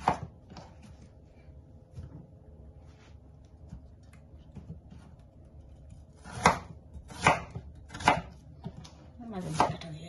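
A knife chops potatoes into large chunks, a few sharp, spaced knocks on a board that come mostly toward the end, with soft background noise and little else.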